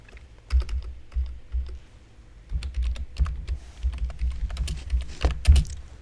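Keystrokes on a computer keyboard, sharp close clicks in irregular bursts with a few heavier taps like the enter key, over a faint low rumble.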